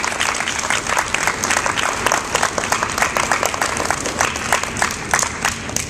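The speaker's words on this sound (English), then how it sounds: "you owe yourselves a round of applause for that" Audience at a closing speech for The Virginia Project breaks into a sustained round of applause, dense overlapping claps of steady loudness throughout with no one talking.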